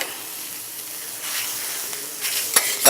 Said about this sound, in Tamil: இதை இப்போ கிரில் பண்ண போகிறோம்